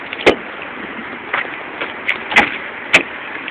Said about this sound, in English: back door locked.